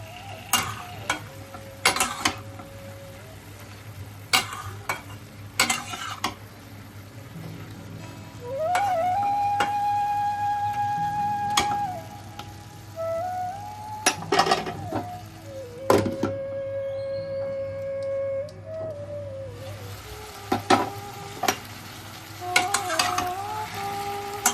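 A spoon gently turns mixed vegetables, prawns, slit green chillies and coriander in a pan, giving scattered scrapes and clinks over a low sizzle, with sliding tonal sounds in the background.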